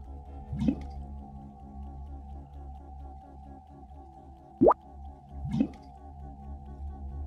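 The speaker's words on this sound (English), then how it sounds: "Pink water everywhere." In the adventure game Edna & Harvey: Harvey's New Eyes, pink water floods in, heard as a low steady liquid drone with three sharp watery plops or drips spaced apart, the middle one loudest.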